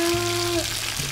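Extra firm tofu fries in a pan, giving a short, steady sizzle with a low tone humming underneath.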